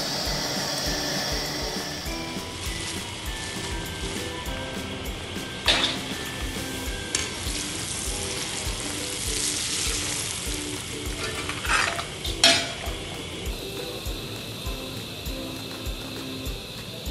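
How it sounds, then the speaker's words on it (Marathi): Poha, flattened rice, frying in hot oil for chura, a continuous loud sizzle with bursts of stronger crackling and occasional stirring scrapes, close up and without speech. "अशा पद्धतीने आपण सगळे पोहे तळून घेणार आहोत।"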